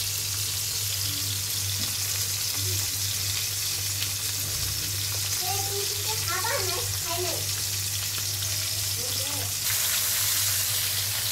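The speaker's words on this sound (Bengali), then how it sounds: "মাছগুলো দুই ধাপে ভাজবো, কারণ একসাথে সবগুলো ভাজা যাবে না।" Koi fish fry in hot oil in a home kitchen, a steady, quiet sizzle and crackle with a low hum underneath and a few bubbling spurts.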